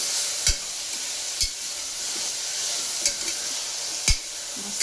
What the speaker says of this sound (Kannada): ಎಣ್ಣೆಗ ಈ ರೀತಿ ಫ್ರೈ ಮಾಡ್ಕೊಬೇಕು.